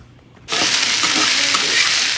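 Bitter gourd fried in hot oil with radhuni spice starts abruptly after a brief quiet moment, then sizzles loudly and continuously up close.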